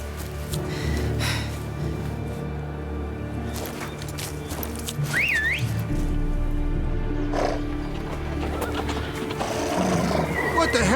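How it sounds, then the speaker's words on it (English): Horses neigh and whinny amid hoofbeats and game ambience in The Witcher 3: Blood and Wine, with a rising, wavering whinny near the middle and rumbling noise beneath it. "Ready our horses!"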